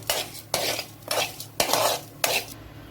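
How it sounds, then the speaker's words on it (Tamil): Urad dal frying in a little oil for mint chutney, stirred with a metal spoon in a pan: four rhythmic scraping stirs over a low sizzle, close and with no talking. "இந்த எண்ணெயிலேயே நம்ம உளுந்தையும் போட்டு இப்படி நல்லா வறுத்து எடுக்கலாம்"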